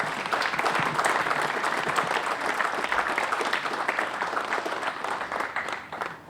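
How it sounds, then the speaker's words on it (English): A room full of people gives sustained applause honoring police chiefs at a township police department's centennial celebration, dense even clapping from a sizable crowd that holds steady for several seconds before tapering off. "I ask for a round of applause for all 9 of those police chiefs."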